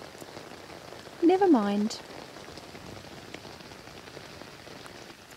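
Rain falls steadily on a camping tent at night, a soft continuous patter throughout, with a brief spoken phrase partway through.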